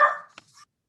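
A dog gives a single short bark, fairly near and clear, in a quiet room during a town council meeting, with a small yip after it.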